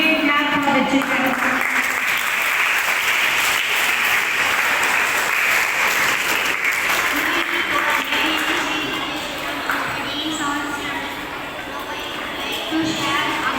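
An audience at a school celebration of Global Wind Day, Blood Donor Day and World Environment Day applauds children with sustained, fairly loud clapping that fades slightly toward the end.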